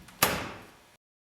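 Wall cabinet door for a ZOLL AED Plus defibrillator shut once with a sharp close and a brief fading rattle, close and alone.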